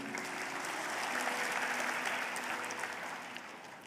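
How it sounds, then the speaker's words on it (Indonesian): Church congregation applauding for God during a sermon, a steady wash of many hands clapping at moderate volume that holds for a few seconds and then begins to thin out. "Yang percaya kasih tepuk tangan bagi Tuhan kita."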